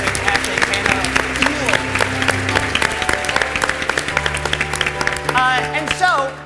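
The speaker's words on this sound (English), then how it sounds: "Can we give another round of applause for the fantastic panel?" Conference audience applauding a panel at a plenary session, steady clapping throughout, mixed with crowd voices and cheers, with a louder burst toward the end.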